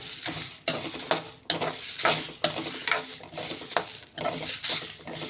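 Whole spices, including black cardamom, star anise, nutmeg and cinnamon, are dry roasted for garam masala in a pan. A spatula scrapes and stirs in regular strokes about once a second, with a rattling, rustling texture close by and no talk.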